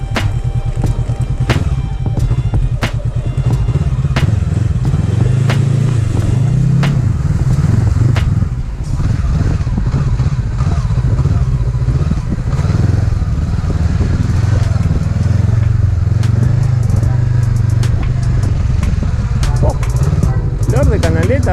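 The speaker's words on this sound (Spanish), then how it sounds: "no se va a quedar con la moto ahí cinchando, tironeando en el agua" Honda CB500X motorcycle engine labouring loudly and continuously while pulling through water on a wet dirt trail, steady low drone with clattering under it throughout.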